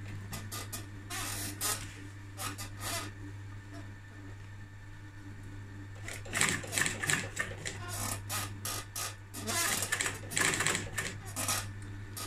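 Sewing machine stitching car trunk upholstery, heard in rapid mechanical bursts that stop and restart, with a steady motor hum underneath and louder, busier runs in the second half.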